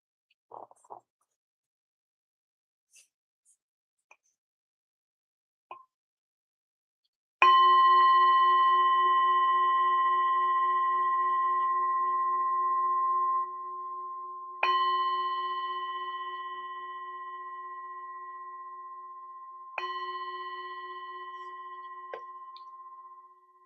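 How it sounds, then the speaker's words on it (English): A meditation bell is struck three times after a few faint soft knocks, each strike ringing out as a clear sustained tone that slowly fades and is cut short by the next strike, in an otherwise quiet room. "I will invite a bell."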